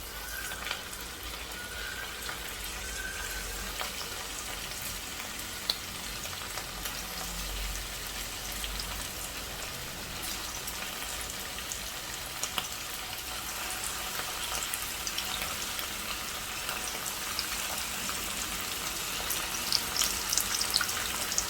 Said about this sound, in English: I've heated up oil to deep fry the chicken.